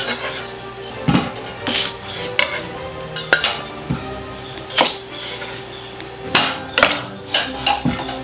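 A knife chops potatoes on a cutting board in a home kitchen: a string of sharp, irregular chopping knocks, close and fairly loud, with short pauses between strokes and no talking.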